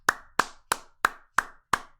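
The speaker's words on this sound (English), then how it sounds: "Don't clap for yourself." Six evenly spaced, sharp hand claps, close and distinct, each a crisp smack with a short tail, over about two seconds with no talk in between.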